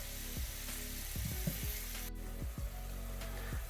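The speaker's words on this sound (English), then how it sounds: "I'm going to start browning up my seasoning mixture with the onions," Onions, peppers and celery sizzle and fry in olive oil in a pan, a steady crackling hiss broken by several short clinks and scrapes from stirring.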